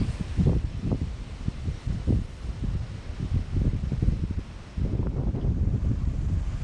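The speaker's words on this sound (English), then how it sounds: "It's a bit breezy today as well." Breezy wind buffets the microphone outdoors during a motorbike trip, a continuous low rumbling roar with gusty surges and brief dips, loud and close with no one speaking.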